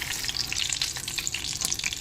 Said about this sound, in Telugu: వేగుతున్నాయి.